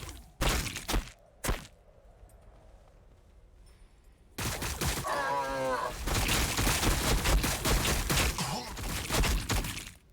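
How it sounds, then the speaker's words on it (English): Gunfire in the video game Warhammer 40,000: Battlesector, with a few sharp isolated shots early, then a dense sustained barrage of blasts and crackling impacts. "We are taking fire."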